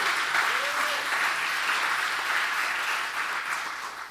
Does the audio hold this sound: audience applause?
yes